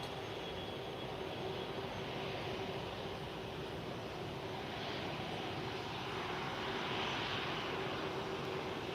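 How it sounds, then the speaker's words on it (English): A private jet takes off at Lisbon airport, heard from a distance as a faint, steady engine roar that swells slightly toward the end; no talking. "Let's see this takeoff. Usually private jet takeoffs are a lot faster than commercial ones."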